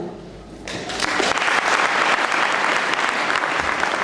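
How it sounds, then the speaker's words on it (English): Audience applause in a boys' high school hall during a prayer day gathering, starting after a brief pause and then holding as dense, steady clapping from many hands for several seconds. "Give him a better clap."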